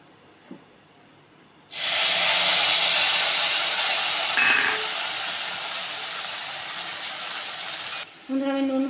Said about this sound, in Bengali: কড়াইতে একটু কালো জিরে ফোড়ন দিয়ে তেলের মধ্যে এবার আমি মশলাটা দিয়ে দেবো